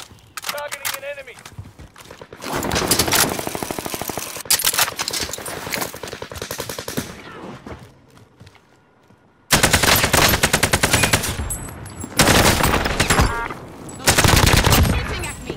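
Call of Duty gunfire, with repeated bursts of automatic fire and rapid shots in loud clusters, broken by a brief lull, as players talk over the battle.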